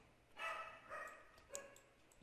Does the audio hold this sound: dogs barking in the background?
yes